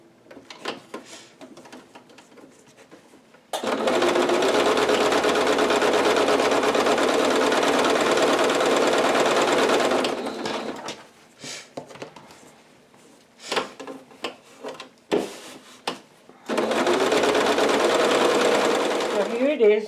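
A sewing machine stitching a simple apron runs loud and close in a long steady burst, stops for a stretch of light handling clicks and rustles, then runs again near the end.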